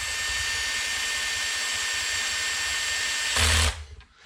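A power drill drives a screw snug into plastic while a steering servo is installed in a Traxxas X-Maxx RC truck. A steady close motor whine runs throughout, then a short louder burst as the screw seats before it winds down.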